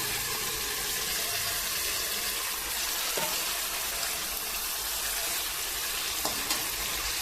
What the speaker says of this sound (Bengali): ভালোভাবে কষিয়ে নিয়েছি, এখন মাছগুলো দিয়ে দেবো।